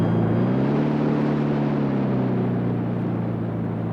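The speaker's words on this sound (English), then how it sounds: "I've reversed the engine so we can ease into our mooring, Mr. Bishop." Boat engine running in reverse while easing into a mooring, a steady loud droning hum with layered low harmonics that sag slightly in pitch midway, continuous and close with no talking.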